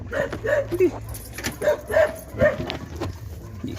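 Short yips and barks from small dogs, several in quick succession, close by with some whimpering tones mixed in.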